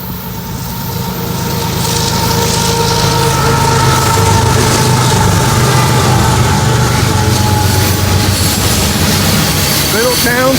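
A northbound freight train of over 600 axles rolls past on the Toledo sub in Sidney, Ohio, a loud sustained rumbling roar with droning engine tones that builds and holds steady close by.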